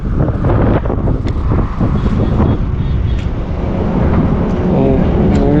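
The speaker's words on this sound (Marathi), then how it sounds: "इतकी गार हवा सुटली ना" Cold wind rushes past while riding by sugarcane fields, buffeting the microphone in a loud, continuous roar with a low rumble underneath.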